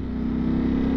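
Ducati Streetfighter V4S with its 1103 cc, 208-horsepower V4 engine running at a steady idle or held rpm, a continuous close droning hum with a strong low tone and no speech on top.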